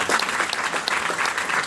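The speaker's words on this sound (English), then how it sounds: "Give me a round of applause." Short burst of audience applause for a speaker at a talk, steady clapping from a room of people lasting under two seconds with no voices over it.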